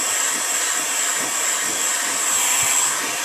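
A heat gun blows steadily onto a plastic rear bumper of a 2004 Mini Cooper S, a constant close airy whine with no pauses.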